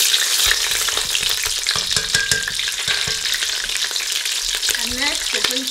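Onions fry in hot oil for ayamase stew, producing a loud, dense crackling sizzle that runs continuously and close, with light stirring clatter mixed in and no speech.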